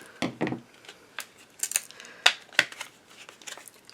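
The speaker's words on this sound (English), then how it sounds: "if I can get it open, I'm going to just cut it open" Scissors snip and crinkle through a plastic facial mask applicator package, a string of short dry cuts and rustles, close and fairly quiet.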